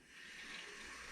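Water leaking from the fitting of a sink-mounted Oral Breeze dental irrigator, a faint steady hiss and trickle close by that swells slightly and holds without pause.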